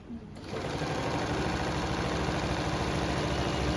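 A Stitch Queen tailoring sewing machine runs steadily in reverse, its rapid mechanical whirr and needle chatter starting abruptly and holding a loud, even drone throughout.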